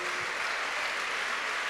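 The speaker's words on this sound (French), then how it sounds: "Donc là on peut applaudir." Applause from an audience at a Fidesco anniversary gathering, a steady dense patter of many hands clapping at moderate level, continuous and even throughout.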